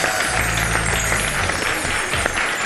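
Dense applause from an audience fills a festive Eid special show, a steady continuous wash of clapping with a low hum beneath and no clear speech.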